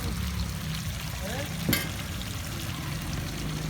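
Paneer and tomato sizzle steadily in a hot pan as they are stirred together, a continuous frying hiss with one sharp scrape of a spoon partway through, heard close and without talk.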